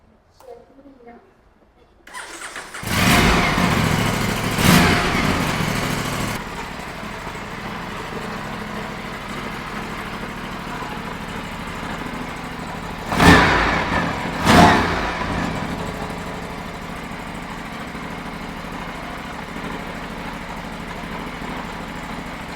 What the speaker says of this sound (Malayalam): നമുക്ക് ഈ ഒരു ബൈക്കിൻ്റെ സൗണ്ട് ഒന്ന് കേട്ട് നോക്കാം. അടിപൊളി സൗണ്ടാണ്.